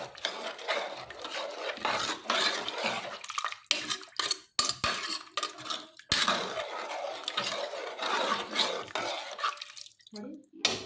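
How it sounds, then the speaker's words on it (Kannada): A spoon or ladle stirs dill leaf khichdi in a pot after water is added, giving repeated close scraping and clinking with watery sloshes and a few brief pauses. "ಈಗ ನೀರು ಹಾಕಿದ್ಮೇಲೆ ಚೆನ್ನಾಗಿ ಮಿಕ್ಸ್ ಮಾಡೋಣ"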